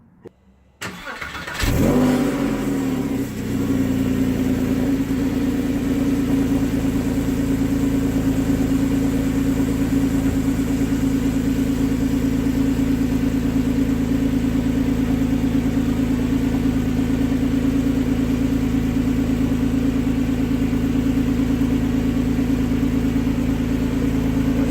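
A Porsche 911 Carrera 4S with a restored Porsche Sport Exhaust cranks and fires up, flares briefly, then settles into a deep, steady idle that drones on loud and close without interruption.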